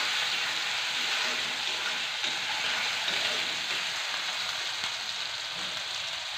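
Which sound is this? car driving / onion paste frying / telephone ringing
onion paste frying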